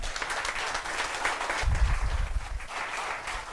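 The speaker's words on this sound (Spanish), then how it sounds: "Fuerte el aplauso al Señor." A congregation applauding during a Catholic sermon, a steady, dense clapping from many people that swells slightly midway, heard alone in a reverberant hall.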